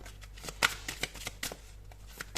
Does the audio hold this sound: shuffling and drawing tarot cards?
yes